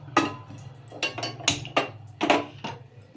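Country chicken pieces going into a pressure cooker in a home kitchen, heard as sharp metallic clanks and clinks of a ladle against the pot, about half a dozen irregular strikes over a low steady hum.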